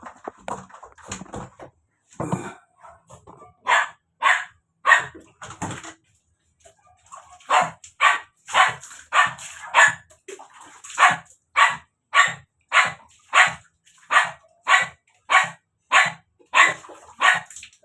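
Dogs bark during a bath on a hot day, first in scattered yaps, then in a long, even run of sharp, loud barks close by.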